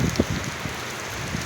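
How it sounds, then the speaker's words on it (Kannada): Steady wind-driven rain during the year's first downpour, heard just before the Ugadi festival. The hiss is a constant dense wash with soft gusty swells and a few louder close drops, and no voices. "ಎಷ್ಟು ಗಾಳಿ ಮಳೆ ಬರ್ತಾಯಿದೆ."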